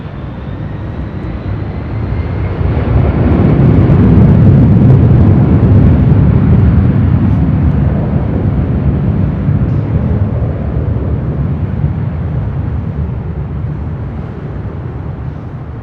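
A Delta Boeing 757-200 jet airliner takes off at LAX, a steady broad roar that swells over a few seconds and then holds loud, with continuous low rumble and no voices.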